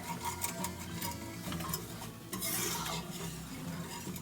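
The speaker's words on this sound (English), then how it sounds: "this is where you want it to get just a little bit brown, so it kind of like browns that butter" Butter browning in a pan for biscuit gravy while it is stirred: a steady close sizzle with soft scraping and light clicking stirs throughout, no voices.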